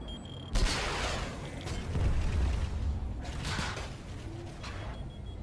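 A flak turret in Planetside 2 fires in rapid bursts of booming, rattling shots, one sharp onset followed by repeated volleys amid mechanical clatter; the firing stays moderately loud throughout.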